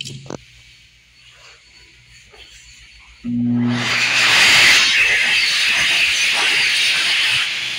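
A 2020 Excel Dryer XLERATOR hand dryer with a point nozzle at a Walmart restroom in Belleville, Illinois starts up after a quiet stretch, blowing a loud, steady rushing hiss that holds for several seconds.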